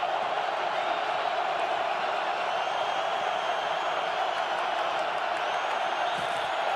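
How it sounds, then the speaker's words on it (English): At a Seahawks–Eagles NFL wild card playoff game, a huge stadium crowd keeps up a loud, unbroken roar to drown out the offense's signals, a steady dense wash of noise with scattered whoops. "crowd trying to jam the signals"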